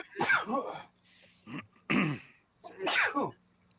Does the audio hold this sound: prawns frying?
no